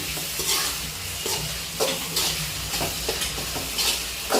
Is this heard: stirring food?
yes